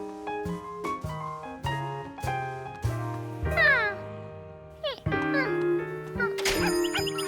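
A cartoon cat meows repeatedly over gentle piano music, several distinct rising and falling meows close and clear, with a short bit of spoken narration between them.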